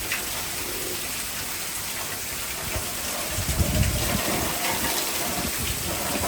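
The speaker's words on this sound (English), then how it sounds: "The rain's blowing sideways." Heavy thunderstorm rain driven sideways by strong wind gusts in Frisco, Texas, a steady loud roar of rain that swells in the middle, with no talking.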